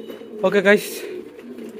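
Sirazi pigeons give a brief, soft coo nearby, heard around a man's short spoken words.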